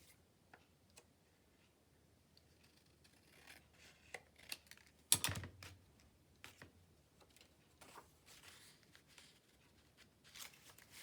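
Paper for a junk journal pocket being snipped at the bottom with scissors: sparse, quiet ticks and rasps, one sharp louder cut midway, then scattered small clicks alone.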